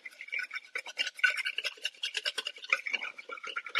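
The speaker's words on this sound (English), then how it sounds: "with a whisk and this olive oil here, we're just going to get this really well" Olive oil marinade whisked in a bowl, a rapid, steady scratching and rubbing of the whisk, close and continuous, with no voices.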